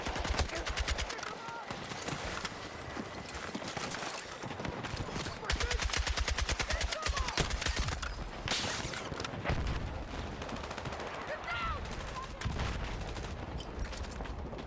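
Automatic AK rifle fire in the video game Battlefield 6, sustained rapid bursts of gunshots repeating throughout over game ambience, with a player talking at times.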